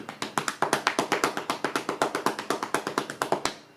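Quick, steady, even taps of hands patting on legs, about eight per second, close and continuous for several seconds, with no talking.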